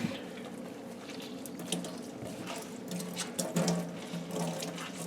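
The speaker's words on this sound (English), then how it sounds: "I'm going to wring it out a little bit." Water drips and splashes steadily as a soaked rabbit hide being alum tanned is wrung out by hand, a continuous trickle with a few louder spatters close by.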